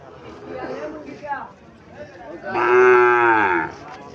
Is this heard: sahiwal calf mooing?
yes